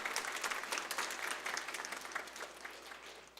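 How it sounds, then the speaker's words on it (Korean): A church congregation claps together during a Sunday service, a steady wash of many hands applauding at moderate distance that gradually tapers off. "우리 박수 한번 치겠습니다"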